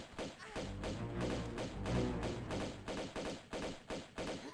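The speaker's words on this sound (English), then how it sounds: "These pistols don't do a whole heck of a lot, but they're fine." Pistol fire in the Tomb Raider video game: a rapid series of punchy shots, roughly eight to ten, fired in quick succession over game music and effects, with no speech.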